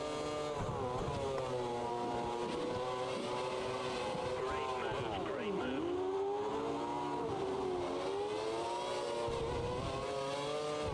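V8 Formula 1 race car engines in a racing video game at the Chinese Grand Prix whine continuously, their pitch rising and dipping through gear changes and corners, several cars droning together at a steady level.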